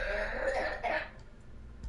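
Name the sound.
boys coughing in the background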